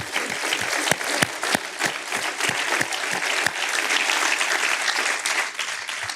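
A church congregation applauding during a service, many hands clapping in a dense continuous patter with a few sharper nearby claps, steady and fairly loud throughout.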